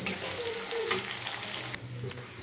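Chopped onion with cinnamon frying toward golden brown for sweet zarda rice, a steady close sizzle with soft stirring scrapes throughout and a brief dip near the end.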